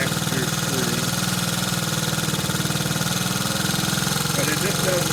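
A 1969 Honda CT90 motorcycle engine idles steadily and close by, its rough, even pulsing running throughout with a slightly raised idle, and a voice briefly speaks over it.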